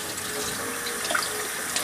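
Cool tap water runs steadily from a faucet while a small doll's hair is soaked under it, a continuous hissing flow with no talking.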